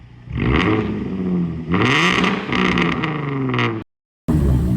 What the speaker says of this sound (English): give it a little shot of gas